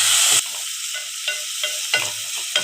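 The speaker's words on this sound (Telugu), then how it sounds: "ఇలాగా ఉల్లిపాయలు వేగుతున్నప్పుడు" Onions frying in a pan for a brinjal and potato curry, an even sizzle under regular stirring scrapes roughly every third of a second, heard close with no talking.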